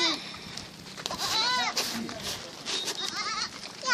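Goats bleat repeatedly in wavering, nasal cries, some close and loud, with people talking over and between the calls.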